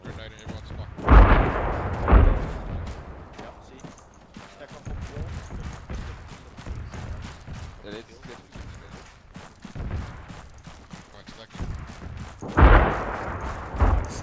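Grenade blasts in the military video game Arma 3, a pair of heavy booming thuds early on and another later, with low rumbling gunfire-like thumps between them under radio-style team chatter.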